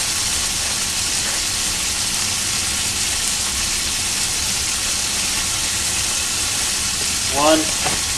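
Onion and garlic sizzle in a hot pan with a steady, dense frying hiss throughout, and a brief voiced sound near the end.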